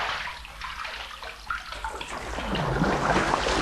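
Water sloshes and splashes in a filled bathtub, a continuous wet churning that grows louder and busier as something thrashes about in it.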